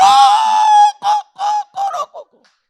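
A voice imitates a rooster clucking. He gives one long, strained, held cry, then four short, clipped cluck syllables, loud and close, with silence after.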